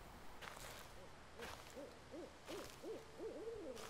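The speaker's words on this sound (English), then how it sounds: "Owls." Repeated owl hoots in the horror video game Slender Man: The Arrival, a series of soft wavering calls in quick pairs and triplets that grow more frequent toward the end, set against a steady low ambient hum with no talking.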